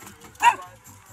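A dog on a beach gives a single short bark at close range, with faint voices and outdoor sounds around it.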